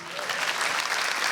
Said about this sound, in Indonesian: tepuk tangan buat Romi Hakim